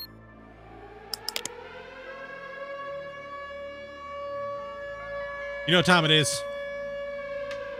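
A police siren in Drug Dealer Simulator wails as a rising, sustained tone, with a few keyboard clicks and a short burst of talk partway through.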